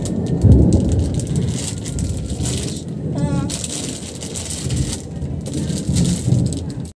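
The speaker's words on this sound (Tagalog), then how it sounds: "Oh! It's raining." Steady rain pours down outdoors beside a small store, with a rumble of thunder rolling through partway and a brief rattle, loud and close throughout.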